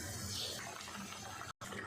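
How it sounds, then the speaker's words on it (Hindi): Soaked rice is poured into a pot of boiling salted water, giving a continuous close rush of water and bubbling with a brief drop-out near the end. "अब 1 गिलास चावल, जिनको मैंने 15 मिनट के लिए भिगो के रखा था, डाल देते हैं"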